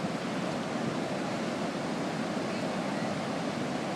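Ocean surf at a dog beach in Ocean Beach, a continuous broad wash of breaking waves with some wind rumble, steady and unbroken throughout.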